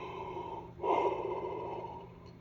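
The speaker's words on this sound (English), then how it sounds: "Sorry, I can't stop yawning." A person yawns near the listener, a long breathy intake that swells into a loud open-mouthed exhale lasting about a second and a half, then trails off quietly; no one speaks.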